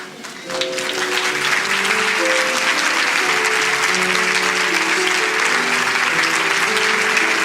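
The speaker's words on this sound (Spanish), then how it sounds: "Le damos un aplauso al Señor" A church congregation claps steadily and continuously during a sermon, loud and sustained, with sustained musical tones playing underneath the applause.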